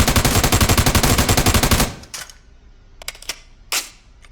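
An M4 rifle fires a rapid automatic burst in a video game, roughly twenty close, sharp reports in an even rhythm, then stops and leaves a few faint clicks and thuds.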